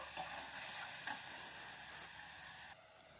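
Garlic-spiced chicken liver with eggplant is sautéed and stirred in a pan. A soft, quiet sizzle runs under two clear spatula scrapes, then the hiss dips suddenly near the end.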